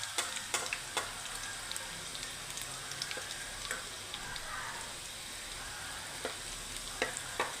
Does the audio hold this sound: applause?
no